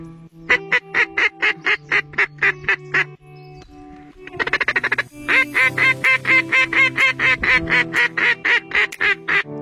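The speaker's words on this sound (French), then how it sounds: "Après 1 heure à attendre, un canard approche," Rapid, loud quacking from a duck during a hunt comes in evenly spaced bursts. After a brief pause it returns as a faster, denser, nasal series that sounds close and rhythmic.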